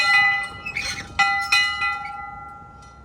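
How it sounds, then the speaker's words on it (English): A metal dinner bell at a folklife festival is struck several times in quick succession, each clang ringing out clearly and then fading into a long, lingering tone. "This is the dinner bell."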